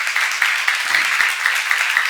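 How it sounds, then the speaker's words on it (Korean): Congregation at a church seminar claps together in a loud, even, rhythmic pulse of hands that keeps a steady beat throughout, with a brief murmur of voice partway through. "믿는 사람 박수 줘봐요."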